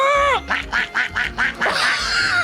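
A person imitates a duck with a quick string of about six nasal quacks, close and loud, opening with a falling call and ending in a longer drawn-out quack.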